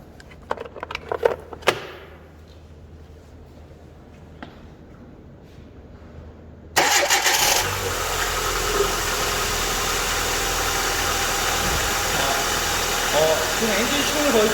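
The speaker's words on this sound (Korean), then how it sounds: "지금 엔진 시동을 거니까 어떻게 됐어요?" During a power steering fluid bleed, soft clicks and handling noises come first in near quiet. Then a car engine abruptly starts and settles into a loud, steady idle hum, with a person talking at times.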